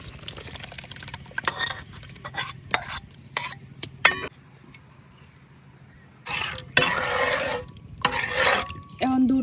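Rice is tipped into milk at a rolling boil and stirred with a metal spoon, giving clinks and scrapes against the pot, a quieter lull, then louder bubbling and stirring bursts near the end.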